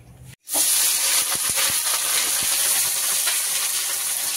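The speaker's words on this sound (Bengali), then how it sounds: "এই যে সবজিগুলো ভাজার জন্য তেল দিয়ে দিচ্ছি কড়াতে সাদা তেল এটা দিয়ে সবজি ভাজা হবে" Winter vegetables (cabbage, beet, carrot and cauliflower) frying in white oil in a wok for chow mein: a loud, steady hiss and sizzle that starts abruptly after a brief silence and keeps going without talk.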